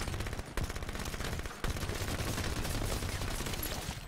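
SMG fire in Halo 5 multiplayer, a loud, steady stream of rapid automatic shots that runs through the whole stretch with one brief break, no talk over it.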